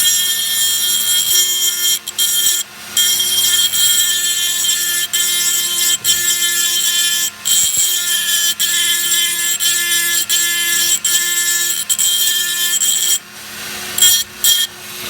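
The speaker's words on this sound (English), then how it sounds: "I'm going to go ahead and bevel this edge here." A hand tool grinds and files to bevel the metal edge of a pistol magazine being modified for a Star BM 9mm, with continuous loud close rasping broken by brief pauses.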